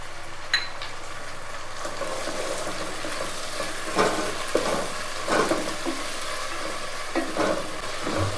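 Vegetable kuska masala with curd frying in a pan: a continuous hissing sizzle with occasional soft scrapes and clicks of stirring, close up and steady throughout.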